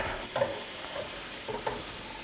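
Food stir-fries in a wok over the highest heat, a steady loud sizzle broken by a few sharp scraping and tossing sounds of the spatula against the metal.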